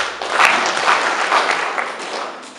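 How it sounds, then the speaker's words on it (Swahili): Sustained applause from a crowd of teachers at a district teachers' union election gathering in Mbeya, steady and fairly loud throughout with no voices over it. "Makofi kwenu."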